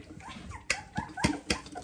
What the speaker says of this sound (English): I am here with Boca's litter